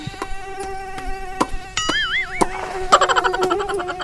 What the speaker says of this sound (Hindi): मच्छर चावत है।